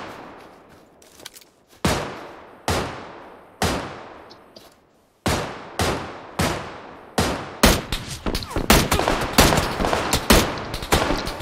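Gunshots in PUBG ring out as sharp, echoing single cracks, spaced at first and then coming faster in quick clusters, each shot trailing a decaying reverb, loud and with no talk.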